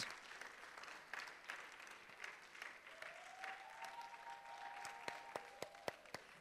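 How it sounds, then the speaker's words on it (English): An audience at a graduation ceremony applauds with steady, fairly distant clapping, and a few louder individual claps stand out toward the end. "Let's give them a round of applause."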